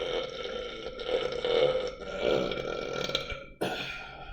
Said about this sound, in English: I'm really good at burping.